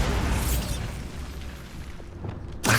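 A Bombarda blasting spell explodes in Hogwarts Legacy, a loud booming burst at the start that rumbles and fades into a low tail, with a sharp crack returning at the very end.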